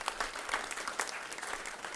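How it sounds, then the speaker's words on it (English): Audience applause at a Climate Week NYC conversation event in New York, a steady broadband patter of many hands clapping at moderate level over two seconds, with no talk. "Let's give Fred Kirschenmann a round of applause, please."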